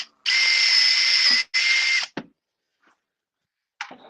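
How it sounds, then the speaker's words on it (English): Power drill whirring loudly as it bores a starting point, two steady bursts with a brief pause between, followed by small clicks and clatter, close and without speech. "We'll just drill a starting point"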